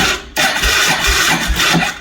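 A 2000 Kawasaki Prairie 400 ATV engine fires up on a newly replaced starter, a brief starter whir catching into a loud, close, pulsing idle that runs steadily on.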